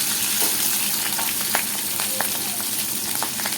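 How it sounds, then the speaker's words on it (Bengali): Pieces of boal fish frying lightly in hot oil, a dense continuous close-up sizzle with scattered crackles and pops throughout. "বোয়াল মাছ কিন্তু হালকা হালকা করে ভাজতে হয় বেশি করে ভাজবো না"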